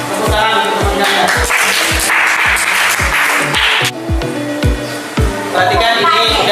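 Classroom of students applauding a classmate, mixed with sharp rhythmic percussive hits in a steady beat, loud and close throughout.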